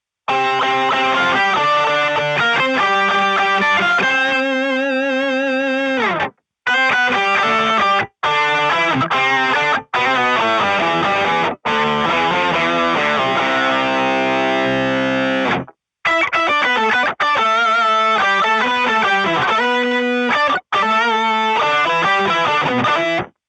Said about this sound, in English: I also use the Harmonist as an Octaver effect. And here is what it sounds like.